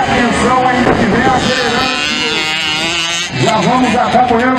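A 50cc motocross motorcycle accelerates during a velocross race, its high engine note rising and shifting through gears, loud and steady under excited commentary.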